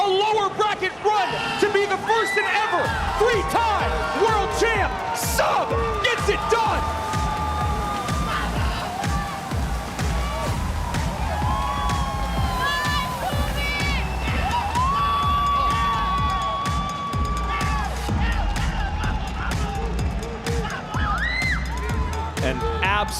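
An esports arena crowd at the Clash Royale League World Finals cheers and shouts after an upset, a dense, loud roar with whoops and scattered yells, overlaid by commentary.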